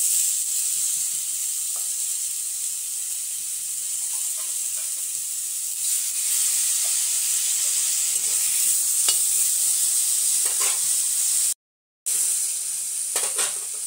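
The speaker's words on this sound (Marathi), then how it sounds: "तर आपले इथं कांदे झाले भाजून, आता मी त्याच्यात टाकणार टमाटे" Tomatoes tipped into roasted onions in a pan for paneer tikka masala, giving a steady close sizzle and hiss with scattered stirring scrapes and a momentary cutout near the end.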